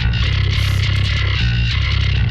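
A thick, distorted bass line plays loud and continuous, heavy low end with gritty overtones and a few brighter swells, no voices.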